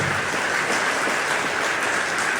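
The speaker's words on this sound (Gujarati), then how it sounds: "એકવાર જોરદાર તાળીઓ સુરત પોલીસ માટે થવી જોઈએ" An audience claps loudly and steadily in honour of the Surat Police, a dense, sustained applause filling the whole moment with no voices over it.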